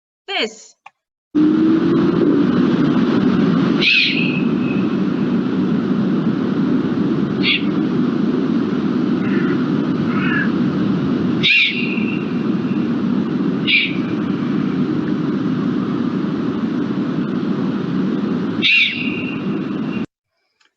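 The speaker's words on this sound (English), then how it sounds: "And begging owlets sound like" Owlets begging near a nest of four young, giving harsh, rasping screeches repeated every few seconds over a steady background rumble.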